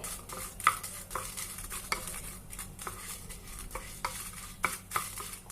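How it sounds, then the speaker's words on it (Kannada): Black pepper fries in hot oil in a pan, with a faint sizzle under repeated spatula clicks and scrapes against the metal every second or so, close and quiet. "ಎಣ್ಣೆ ಬಿಸಿ ಆದಮೇಲೆ ಅದಕ್ಕೆ ಮೆಣಸನ್ನ ಹಾಕ್ಕೊಂಡು ಸ್ವಲ್ಪ ಫ್ರೈ ಮಾಡ್ಕೋಬೇಕು"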